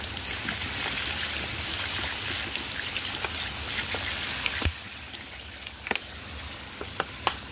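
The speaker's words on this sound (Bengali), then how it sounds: "এবার আমি এর মধ্যে একটু জল দিয়ে দিচ্ছি।" Meat cooking for biryani sizzles loudly and steadily as water is added, then quiets to softer bubbling broken by scattered pops and crackles.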